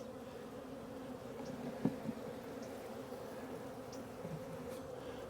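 A small honey bee after swarm buzzing steadily in a hive box, a low continuous drone close by and fairly quiet, with a few faint handling knocks and no talk.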